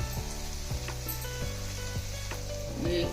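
Chopped tomatoes with ginger garlic paste sizzle steadily in a pan while butter chicken is being cooked, a close, even frying hiss with a few soft stirring knocks and no talking.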